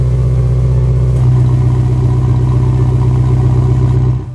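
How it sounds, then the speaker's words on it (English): A Ferrari with its exhaust valves switched open runs close and loud, the deep engine burble shifting to a fuller, harder drone partway through before tailing off at the end. "If you go to number 2, you can hear them open."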